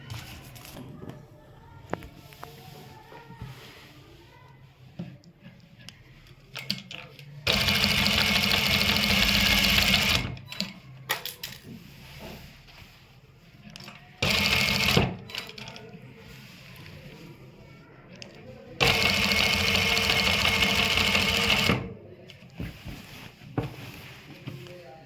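A sewing machine stitches a box around the marked outline of a waistcoat-style pocket, running in three separate loud bursts of a few seconds each, with a quiet voice and handling noises in between.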